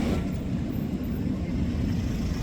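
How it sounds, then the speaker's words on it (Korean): A large moving truck passes on a road near a newly occupied apartment complex, making a loud, deep rumble that starts strongest and holds steady as it rolls by close at hand. "뒤에 엄청나게 큰 차가 오면서"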